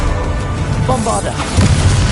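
Bombarda explosion spell cast in a Hogwarts Legacy battle against Ranrock: a deep boom lands late in the clip over a dense game soundscape with musical tones, following a brief stretch of voiced sound.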